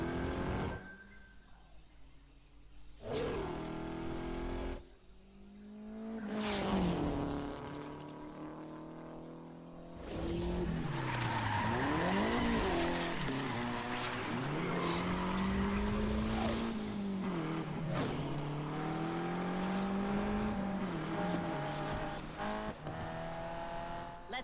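Car engine revs and rises in Need for Speed Unbound, a racing video game driven with a Logitech G29 wheel, with tires squealing through corners; loud and sustained, pitch climbing and dipping with gear changes, no talk.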